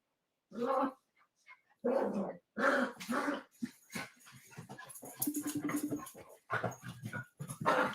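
Three small dogs bark, growl and snarl at each other in a scrappy scuffle, loud bursts with brief pauses and a whimper or two, close by.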